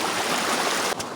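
Creek water rushes past rocks along a hiking trail, a close, steady, broadband splashing flow that briefly dips near the end.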